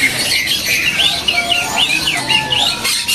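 White-rumped shama (murai batu) at a bird market, loud, busy chirps and rising whistled notes repeating continuously over a dense background of other birds.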